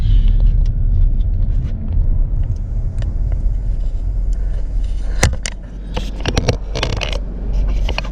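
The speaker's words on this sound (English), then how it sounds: "So we're gonna drive around a little bit." A car drives through streets between Pharr and Mission in Texas's Rio Grande Valley, a steady low interior rumble with scattered clicks and rattles, no voices.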